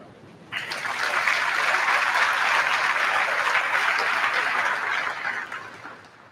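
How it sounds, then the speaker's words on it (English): An audience in a school setting applauds at a National Honor Society induction ceremony, with steady, dense clapping from a sizable crowd that swells in quickly, holds for several seconds and then tapers away. "Please give a round of applause to all organizations reaching out to us for members of the program."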